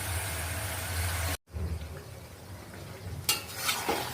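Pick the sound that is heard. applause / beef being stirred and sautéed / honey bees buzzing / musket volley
beef being stirred and sautéed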